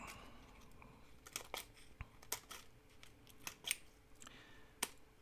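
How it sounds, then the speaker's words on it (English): Small scissors snip apart pieces of plastic bling for a candy-bar snowman craft, a series of sharp, close clicks at irregular intervals, about eight cuts, with no talking. "These have to be cut apart, so I'm just going to clip them apart."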